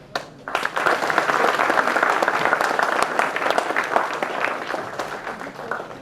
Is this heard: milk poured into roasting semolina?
no